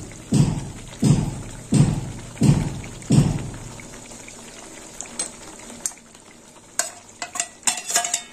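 Tomato chutney with dates added cooks in a pan, with five rhythmic heavy stirring scrapes over a low sizzle, then lighter scattered clinks and taps near the end, close and without speech.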